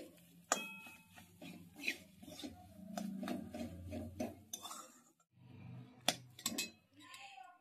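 Boiled potato being mashed and mixed with a utensil in a pan for drumstick cutlets, giving a run of scraping, rasping strokes and clinks, with a few sharper knocks and a pause partway through.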